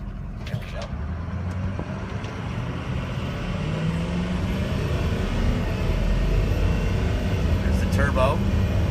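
A turbocharged 2005 Ford F350 pulls away from a standing stop on a rough road. Its low engine rumble swells steadily louder under someone talking inside the cab.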